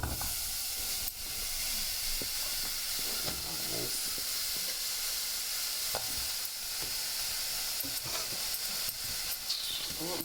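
Bananas dropped into a hot pot for a banana caramel tart, giving a continuous loud hissing sizzle with occasional stirring knocks and no one talking.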